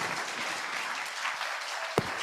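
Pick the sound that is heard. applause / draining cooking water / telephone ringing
applause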